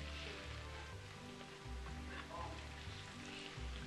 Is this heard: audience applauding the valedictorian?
no